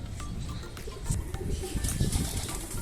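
Several pigeons coo softly and repeatedly close by, their low, murmuring calls overlapping.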